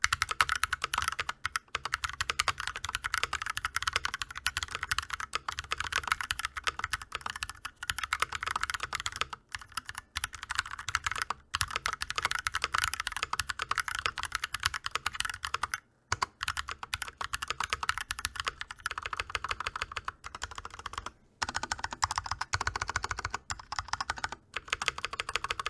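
Steady, continuous clacking of typing on a custom Glorious x Ducky mechanical keyboard, close and fairly quiet, with rapid irregular keystrokes and only brief pauses.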